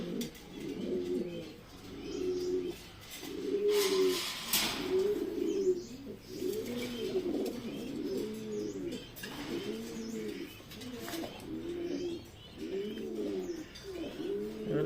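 Pigeons in a loft coo in a steady, repeated rhythm of soft throaty phrases, close and continuous, with a brief rustle of flapping wings and faint chirps in the background.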